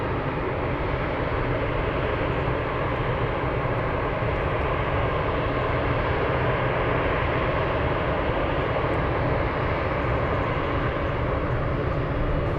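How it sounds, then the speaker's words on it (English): Two Boeing 747 jets taxiing at Anchorage airport give a steady, loud, unbroken engine roar with a deep rumble that holds evenly throughout. "Two big 747s taxiing."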